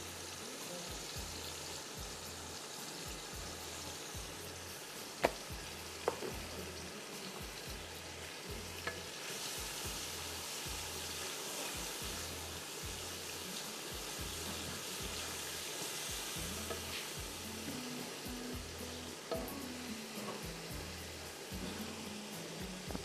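Whole cloves, black cardamom and black peppercorns sizzle in hot oil in a pan for mutton paye, a steady close frying crackle with occasional pops and stirring scrapes.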